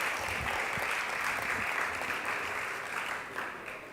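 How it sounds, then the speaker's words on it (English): At a panel event on gender equality and climate-resilient energy, an audience claps steadily for a climate finance division manager. The dense applause holds for several seconds, then eases slightly toward the end. "Please clap for him."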